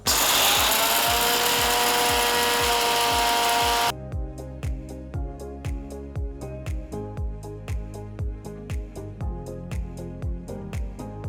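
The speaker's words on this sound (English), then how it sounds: "transfer it to a mixer jar and grind it to a nice fine powder" A kitchen mixer grinder grinds cooled whole spices in its jar to a fine powder. A loud steady whir runs for about four seconds, then gives way to rhythmic knocking pulses as the motor slows.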